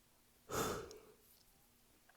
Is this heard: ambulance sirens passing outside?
no